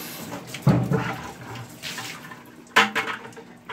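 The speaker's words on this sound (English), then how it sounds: "Now I'm going to be filling water for the next grow." Water runs from a tap into a container to be filled for growing microgreens, a soft splashing flow with a couple of louder gushes as the stream shifts, heard alone at moderate distance.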